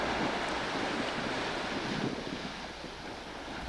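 Churning ocean waves breaking along the Tinian shoreline, a broad continuous wash of surf mixed with wind rush, steady and fairly loud, easing slightly toward the end.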